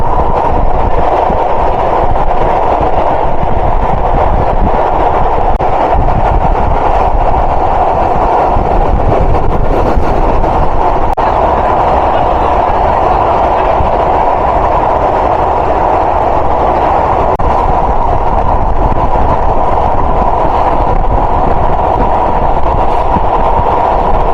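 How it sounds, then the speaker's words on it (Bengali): An Avijatri commuter train on its inaugural Dhaka-to-Gopalganj run crosses the Padma Bridge, giving off a loud, steady rumble and rolling roar that holds without a break, with no voices. "আমাদের ট্রেনের স্পিড কিন্তু আপ হচ্ছে।"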